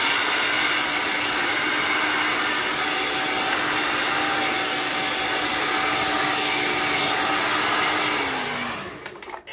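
A large hot-air brush dryer with widely spaced bristles runs on maximum heat, giving a steady loud whooshing blower roar with a faint motor whine that holds for about nine seconds, then drops in pitch and cuts off.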